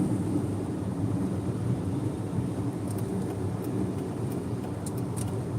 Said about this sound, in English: You can hear the whistling of the turbofans